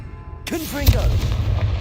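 A Confringo fire spell explodes in Hogwarts Legacy, one sharp, loud booming blast with a crackling, whooshing burst and a rumbling tail, close and alone.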